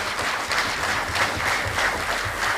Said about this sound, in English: the great Osman Bromfield to my left here deserves a round of applause